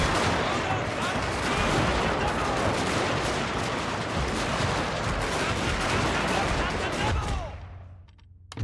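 Dense musket volleys and artillery fire in a Total War Shogun 2 Fall of the Samurai battle, with continuous loud crackling gunfire and booms until it fades out near the end, and a voice speaks over it.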